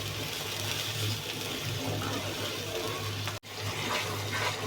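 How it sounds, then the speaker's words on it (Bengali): Curry comes back to a boil in a pan, a steady close bubbling, hissing wash with a brief dropout near the end and no voices. "দেখুন আবারও বলক চলে এসেছে"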